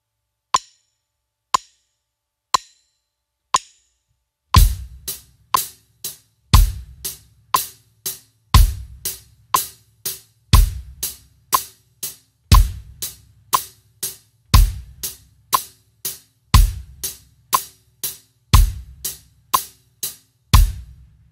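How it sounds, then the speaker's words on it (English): Drum kit hi-hat played together with the bass drum: four lone hi-hat count-in clicks, then a steady beat of crisp hi-hat eighth notes with a deep bass drum thump on alternating beats, close and without talk. "We're just going to play the hi-hat along with the bass drum."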